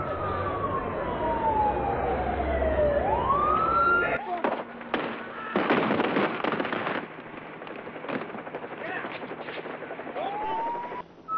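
Gunfire crackles during a police standoff, with sharp bursts and rapid clustered shots over a wailing siren, loud and close, then scattered reports continuing as the siren sweeps again.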